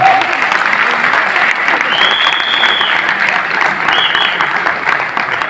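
A company audience applauds loudly and steadily, a dense wash of many hands clapping that carries on without a break, with faint voices mixed into the crowd.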